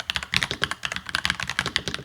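Crisp, rapid keystrokes on a NuPhy Halo 96 mechanical keyboard fitted with Baby Raccoon switches, close and clear, with an uneven run of clicks and soft thocks filling the whole stretch and no voices.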